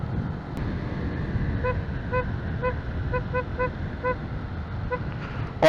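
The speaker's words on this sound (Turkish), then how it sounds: "Kamyon kornası mı be mübarek?" A horn toots in short repeated bursts over a low engine rumble, several quick honks clustered together, fairly close.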